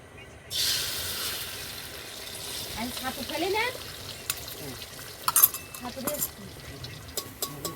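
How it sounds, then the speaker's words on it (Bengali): Sizzling and hissing of eggs frying in a pan, with occasional clinks of utensils and a voice talking over it. "তোমার ভাই দেখো এখন ডিম ভাজছে"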